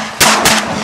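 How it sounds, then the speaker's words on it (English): Shotgun blasts while duck hunting in eastern Washington: two loud booming shots close together, close-range and forceful, each with a rumbling tail fading into open air. "Nice shooting over there."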